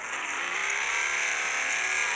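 A Renault Clio drives offroad with a steady, strained engine drone and a bright whirring hum that holds level throughout, close and loud with no voices.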